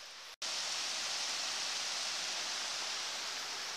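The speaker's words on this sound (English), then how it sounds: "Oh man, it's a good waterfall." A waterfall roars as a steady, loud hiss of rushing water that starts abruptly and holds unchanged to the end.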